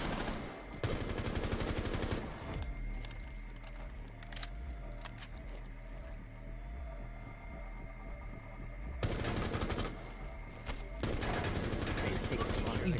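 Gunfire in Rainbow Six Siege: bursts of rapid shots at the start and again near the end, loud and close, with a quieter stretch of game sound in between.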